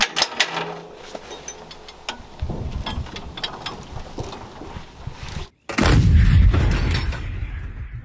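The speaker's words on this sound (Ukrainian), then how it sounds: "Коли стріляє гармата, ти знаходишся в такому полум'ї" Loud mechanical clatter and bangs, then a sudden cut to a heavy roaring blast with deep rumble as a five-ton 152 mm howitzer fires nearby.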